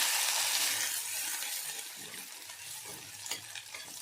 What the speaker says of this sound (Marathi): इथे मोहरी छानपैकी आपल्याला फोडून घ्यायची बघा मोहरी चांगली फुटली तर आपली खिचडी पण छान लागते